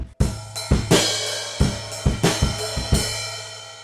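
Steady drum groove played close and loud, kick and snare punching through a sustained open hi-hat wash, no voices.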